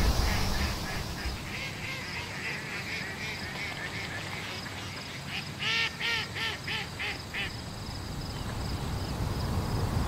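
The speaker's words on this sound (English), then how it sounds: "Feeding the ducks." Ducks quacking while being fed, heard as a short run of nasal quacks in the middle of a steady outdoor background hum. The calls are fairly faint and come in a quick cluster.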